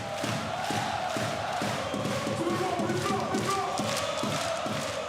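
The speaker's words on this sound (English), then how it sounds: "the capacity crowd in attendance here at the Stade Gaston Médecin generating a magnificent atmosphere" Capacity basketball crowd at Stade Gaston Médecin during a Euroleague Final Four game between AS Monaco and Fenerbahce, a dense continuous roar with rhythmic chanting and thumping, loud throughout.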